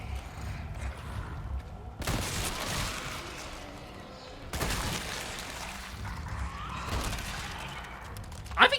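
Gunfire in Resident Evil 4 Remake, two sharp loud blasts a few seconds apart, each with a crashing shattering tail, over low game ambience, then a brief bright crack near the end.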